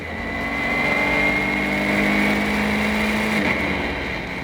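A race car in the Gran Turismo video game accelerates hard out of the Lovefield corner, its engine droning loudly and steadily in a close, continuous roar with no talk over it.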